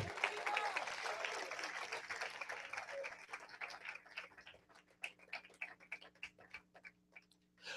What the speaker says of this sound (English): If you are clapping, clap for Jesus.